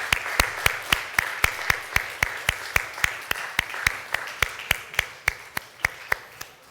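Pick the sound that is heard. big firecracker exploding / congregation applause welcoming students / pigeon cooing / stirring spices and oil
congregation applause welcoming students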